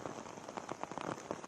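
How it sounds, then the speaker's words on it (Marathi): Heavy rain falling in Mumbai, a steady dense patter of drops on surfaces, fairly faint and continuous with no voices. "जोरदार पाऊस मुंबईत सुरू आहे।"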